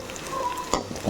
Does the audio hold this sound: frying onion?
yes